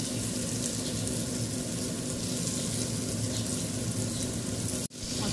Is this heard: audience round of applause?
no